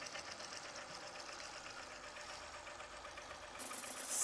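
A rebuilt motor with a sleeved cylinder runs in gear, giving a steady, faint mechanical whir and clatter that grows slightly louder toward the end.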